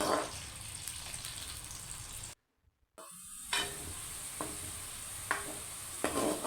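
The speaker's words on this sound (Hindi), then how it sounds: "अब इसमें हम प्याज ऐड करेंगे, इसे अच्छे से लाइट ब्राउन करेंगे।" Onion frying in oil in a kadai, a steady bright sizzle that cuts out briefly and then resumes, with a few soft stirring knocks against the pan.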